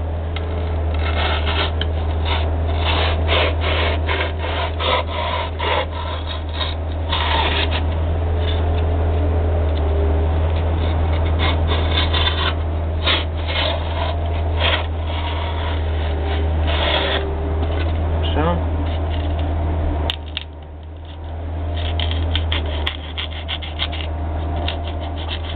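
A homemade hot wire cutter slicing through polystyrene foam gives a steady low electrical hum beneath continuous scratchy rubbing and faint crackles. The sound dips briefly near the end, and no one speaks.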